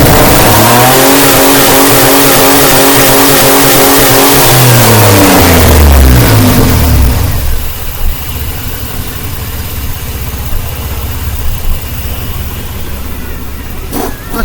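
A car engine with a fine mist of smoke revs hard several times, the pitch climbing and dropping, then cuts out and falls to a rough, uneven idle; loud and close.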